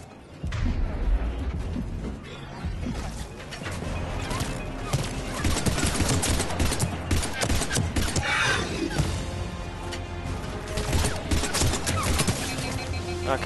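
A Mass Effect 3 firefight on Mars is full of dense, repeated gunfire and crashing impacts. The loud bursts keep up for the whole stretch, with some voice faintly underneath.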